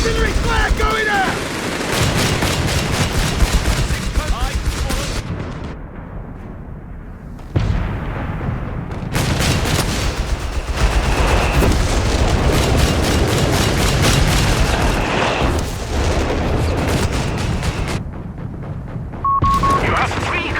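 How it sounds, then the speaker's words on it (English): Company of Heroes 3 battle sounds: dense, loud bursts of rapid gunfire and booming artillery come in long stretches with brief gaps, while voices talk over the combat. "Artillery fire going out!"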